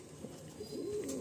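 A male pigeon for sale cooing, a short low coo swelling toward the end, quiet and close with no talk.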